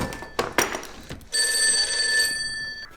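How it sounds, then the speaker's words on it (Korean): An old telephone bell rings steadily in a Chinese school horror drama, a sustained bright metallic trill that starts after a few soft thuds and runs loudly for about a second and a half before cutting off. "그때 갑자기 들려오는 전화벨 소리."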